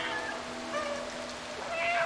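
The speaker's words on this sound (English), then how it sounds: "I'm meowing." In the video game Stray, a cat gives a short meow against a steady, hissing, rain-like ambience.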